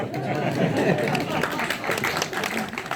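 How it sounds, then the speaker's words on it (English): Audience applause at a Green New Deal political rally in Southampton: a crowd claps and murmurs for a few seconds, close and lively, while a voice speaks over it. "Is that applause for the water or the lack of alcohol?"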